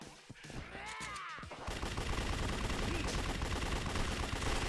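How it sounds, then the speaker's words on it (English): Sustained submachine gun fire in Yakuza 3 Remastered, a dense continuous rattle that grows louder and fills the second half, with a short voice before the burst. "I really hate this submachine gun"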